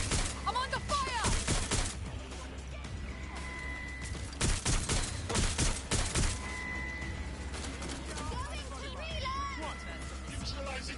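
Gunfire in a firefight in Watch Dogs Legion, with several loud bursts of shots and sharp cracks breaking through a dense, busy game mix, alongside voices and background noise.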